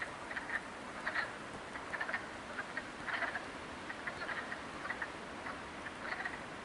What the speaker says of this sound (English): The frogs.